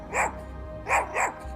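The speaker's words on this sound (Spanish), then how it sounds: "Se limitó a soltar un par de ladridos, como si me dijera que volviera" A dog gives a short burst of barks in a dramatized audio story: one bark, a pause, then two more in quick succession, fairly close over a low background rumble.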